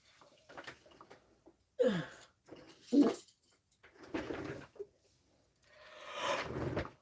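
A dog gives a big yawn at close range, heard as a few squeaky, breathy bursts with short pauses between them and a drawn-out whine at the end.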